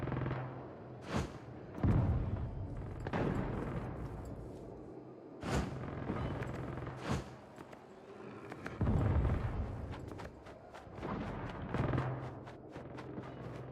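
Several deep booming cannon blasts from Saints Row, spaced irregularly with rumbling decay between them, loud and close with no talking.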